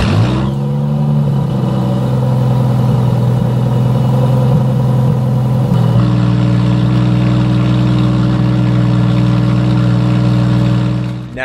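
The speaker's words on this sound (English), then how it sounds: "listen to this V12 engine" Loud, steady V12 engine of a 2025 Aston Martin Vanquish, revving up and holding a deep sustained drone, with a shift in pitch midway and continuous roar throughout, no talking.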